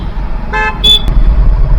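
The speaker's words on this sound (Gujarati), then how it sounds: "કેટલું બધું ટ્રાફિક જામ છે અહીંયા." Two short car horn toots sound amid the low rumble of idling road traffic in a Lonavala traffic jam, fairly loud and nearby.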